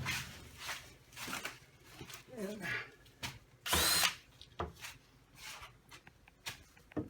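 A power drill drives screws into the front panel of a Seaga HY900 vending machine, giving several short whirring bursts that are close and moderately loud, with a longer burst near the middle and quiet handling noise between them.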